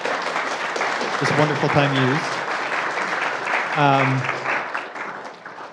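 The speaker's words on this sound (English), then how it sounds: "can we first get a round of applause" An audience applauds at a public talk about the Great Salt Lake, steady clapping running throughout while someone speaks briefly over it at moderate volume.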